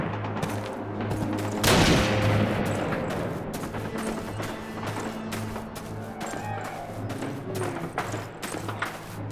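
Sniper and rifle gunfire crack across a battlefield in a Call of Duty (2003) cutscene, one loud nearby shot followed by scattered sharp reports over a steady low rumble.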